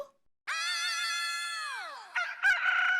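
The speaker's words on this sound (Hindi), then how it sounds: "बाबा लगता है मुर्गा घर में घुस गया है।" Inside a house, a rooster crows in one long, loud drawn-out call that falls at the end, followed by a few shorter squawks and clucks nearby.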